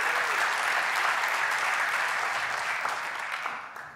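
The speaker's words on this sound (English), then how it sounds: "Round of applause for the Jamf helper binary." An audience at a tech conference session gives a round of applause, dense even clapping that holds steady and then fades toward the end, no voices over it.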